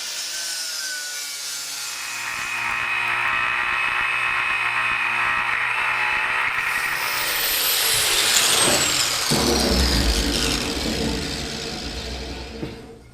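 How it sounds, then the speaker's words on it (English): An angle grinder fitted with a new flap disc grinds a 1974 Sportster air cleaner, a loud, sustained whine and rasp that rises in pitch, roughens in the middle and spins down at the end. "outfitted my grinder with a brand new flap disc"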